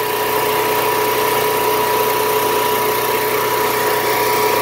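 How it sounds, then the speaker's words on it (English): A 2015 Onan 4000 generator runs steadily, its engine drone loud and constant with a fixed tonal hum and no change in pitch, heard alone with no voices. "We have been running the generator for at least 4 hours."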